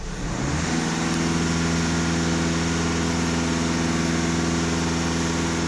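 A VW Skoda car engine starts up and settles into a steady, loud, close hum, held at raised revs of about 2500 rpm throughout with no talking.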